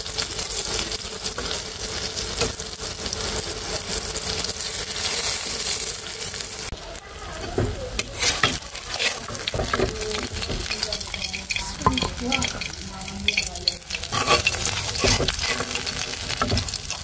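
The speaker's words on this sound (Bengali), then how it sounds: "এখানে যে মাছ ভাজি আর পটল ভাজি" Fish and pointed gourd frying in a pan: a dense, continuous sizzle runs throughout, close up, with scattered scraping stirs and faint splashy crackles.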